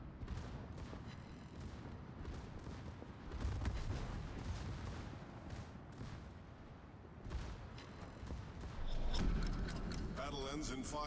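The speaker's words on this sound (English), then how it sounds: "those guns were all over the fucking place because they went off at all the wrong fucking times" Warship guns firing in World of Warships, heavy booming salvos and rumbling blasts rolling through a busy naval battle, with a voice talking throughout.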